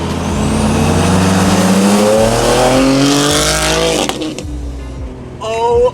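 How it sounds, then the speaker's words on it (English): An ethanol-fuelled hybrid-turbo Ford Fiesta ST revs hard and close, climbing in pitch through the gears, then cuts off sharply into a lower idle while voices talk briefly at the end. "Dude, that thing sounds mental."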